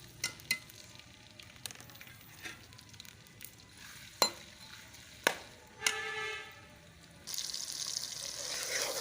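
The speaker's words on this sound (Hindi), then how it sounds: "ऑयल जब गरम हो जाएगा तो फिर इसमें मैंने ये 2 प्याज काट के पहले धो के फिर काट लिए हैं। अब इसमें ऐड कर रही हूँ।" Two chopped onions sizzling and frying in hot oil in a home kitchen, a soft steady crackle with occasional sharp clinks of a utensil, then a louder hiss as more frying noise builds near the end.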